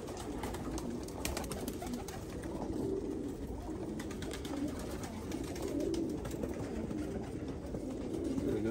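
Female birds coo in a soft, continuous murmur, several doves or pigeons layered together at moderate distance with a faint background hum.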